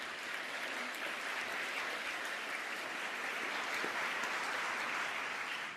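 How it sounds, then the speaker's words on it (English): A large audience at a Fulbright Prize ceremony applauds in a broad, sustained roar of clapping, a thick continuous wash that fills the hall and holds steady throughout without any voice over it. "actually that is worth clapping for"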